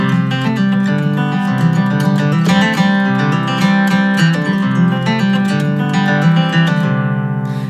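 An acoustic guitar plays a bluegrass tune in a melodic cross-picking style. Quick, bright picked notes ring together over several strings in a steady, busy rhythm, loud and close, with no talk.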